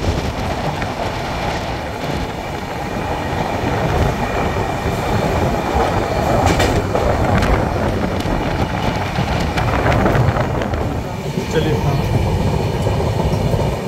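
The 12276 Humsafar Express train picks up speed, with a loud, steady rumble of wheels and carriages, rattling clatter and rushing wind heard from on board. A voice speaks over parts of it.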